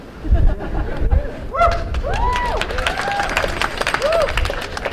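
Audience at a climate movement talk claps and cheers in a lively burst, with scattered whoops and shouts rising above the applause throughout and a voice mixed in.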